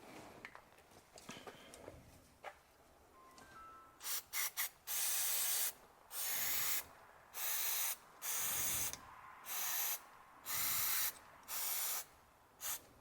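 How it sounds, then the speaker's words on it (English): Mass airflow sensor cleaner sprayed from an aerosol can onto the sensor of a Toyota Prius, a series of about seven loud, hissing bursts of a second or so each, separated by short pauses, following a few quiet clicks and handling sounds. "We're gonna use mass airflow sensor cleaner."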